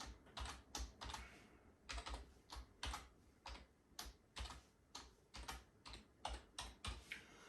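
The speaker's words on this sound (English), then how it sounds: "Just type that again." Someone types a password on a computer keyboard while setting up a Raspberry Pi, with bursts of crisp key clicks falling in uneven groups, close and clear with no talking.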